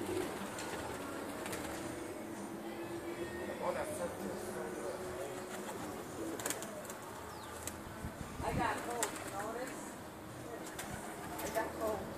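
Pigeons at a loft coo and flutter their wings, soft repeated calls and bursts of flapping close by, with someone talking intermittently over them.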